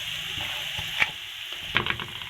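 Shami kebab masala with yogurt frying in a pan, a steady hiss of sizzling with a few spoon clicks and scrapes, close and moderately quiet, no voices.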